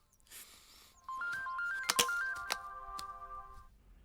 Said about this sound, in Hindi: अब फोन उठाओ